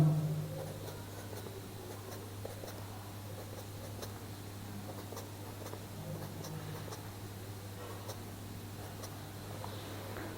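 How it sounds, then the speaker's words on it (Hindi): Pen or marker writing by hand on a board during a chemistry lesson on valence shell electron pair repulsion theory, faint scratchy strokes over a steady hum, with no talking. "ये मैं यहाँ पे लिख देता हूँ।"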